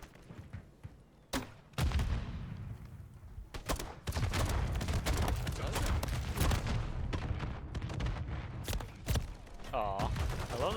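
Rapid bursts of gunfire in the co-op game Lethal Company, sharp close shots and volleys repeating loudly through the stretch, with a player's voice talking over parts of it.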